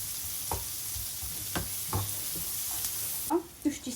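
A soft sizzle of onions frying in butter under scattered stirring clinks and scrapes, ending with a few louder knocks of a utensil in the pan.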